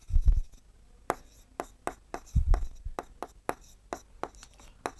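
Pen strokes scratch across paper in a Class 7 maths lesson, heard as a run of short sharp ticks and scrapes with a couple of low bumps, close and fairly quiet, with no talking.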